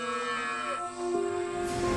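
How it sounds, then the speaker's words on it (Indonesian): A cow moos in a drawn-out, tonal low call that swells and shifts pitch partway through, close and fairly loud, with no speech over it. "Tiba-tiba, dia mendengar suara sapi."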